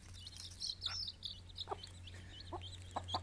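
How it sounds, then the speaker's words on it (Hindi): A desi Aseel hen clucks softly while feeding her chicks on a farm, several short close clucks spaced irregularly over a steady low hum, with faint chirps in the background. "पेवर देसी मुर्गी"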